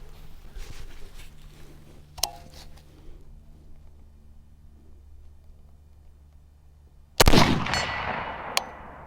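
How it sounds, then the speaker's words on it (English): A rifle shot fired through a Garmin Xero C1 Pro chronograph at a range: one sharp, loud crack near the end with a decaying tail, a smaller metallic clang earlier, over quiet outdoor background. "So yeah, you shoot a few more rounds."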